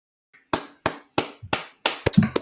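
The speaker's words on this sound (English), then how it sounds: "Applause, man." A handful of separate hand claps, loud and close, spaced about a third of a second apart, then a quicker burst of uneven claps and thumps at the end, with no voices.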